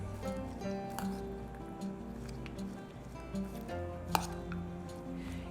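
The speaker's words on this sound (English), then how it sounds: "I'm going to mix it well." A seaweed salad with almonds is tossed and mixed in a bowl, giving soft, moist squishing and light clinking sounds at close range, low in level, with one brief sharper knock near the end.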